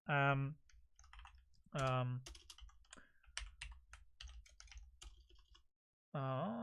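Computer keyboard typing during a Discord server-template walkthrough, a run of quick irregular key clicks filling a few seconds between short bursts of a person talking nearby.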